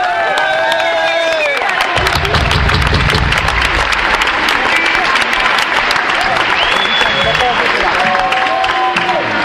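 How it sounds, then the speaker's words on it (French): Loud concert crowd applause and cheering for a guitarist at a live arena show in Bordeaux, a dense continuous roar of clapping with whistles and shouts rising through, music tones faintly under it. "Vous allez l'applaudir très fort."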